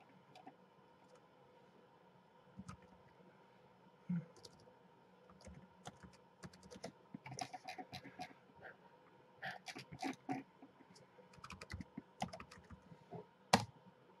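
Typing a ping command on a computer keyboard: an irregular run of quiet, close key clicks and taps, sparse at first and then coming in denser bursts, ending with a louder keystroke.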